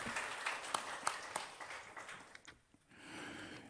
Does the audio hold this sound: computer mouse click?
no